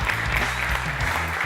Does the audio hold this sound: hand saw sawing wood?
no